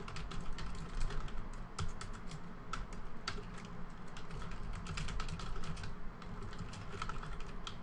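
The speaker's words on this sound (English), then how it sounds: "I never talk when I'm typing." Steady typing on a computer keyboard, with rapid, irregular key clicks and occasional heavier strokes, close and fairly quiet over faint room noise with no talking.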